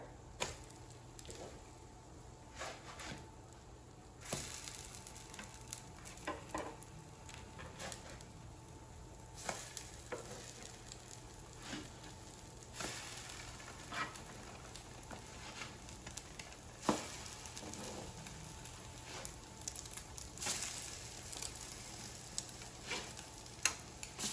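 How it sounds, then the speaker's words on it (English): Brioche French toast fries quietly in a pan, a soft steady sizzle with occasional light scrapes and clicks over nearly half a minute. "So now French toast has been cooking for 4 minutes on the side and they're ready to flip."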